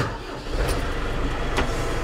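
A tractor engine runs steadily with its PTO-driven shredder engaged and the engine still cold, a loud, close, continuous rumble with no talk.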